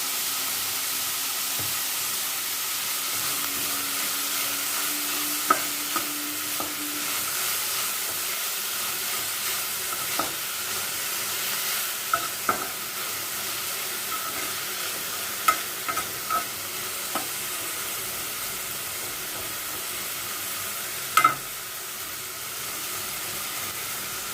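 Vegetables fry with salt in a pan in a steady, close, broadband sizzle and hiss, with a few light clicks and scrapes of stirring, and no one talks.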